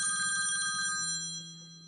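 A phone rings with a bright electronic ringtone, a quick repeating warble followed by a steadier held tone, loud and close with no talking.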